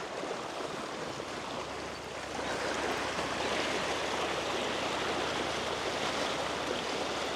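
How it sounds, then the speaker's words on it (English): A strong river flows past a spot used for wild brown trout spin fishing, giving a steady, close rushing wash that swells slightly louder partway through, with a faint low hum underneath and no talking. "Do you hear the water?"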